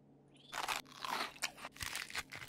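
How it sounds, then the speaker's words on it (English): Crunchy chewing and biting as a fern palm is eaten in the Subnautica video game: several loud, close crunches in an uneven rhythm over a quiet background, with no voice. "we'll grab a few more of these. And just quickly munch down"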